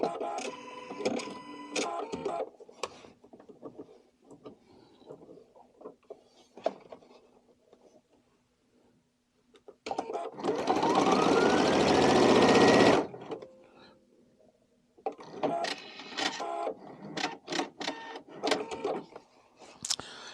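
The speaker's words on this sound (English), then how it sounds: "then we will give it a sew" A Viking or Pfaff sewing machine with a drop-in bobbin stitches a seam in one loud, steady burst of about three seconds, with quieter clicks and fabric handling before and after.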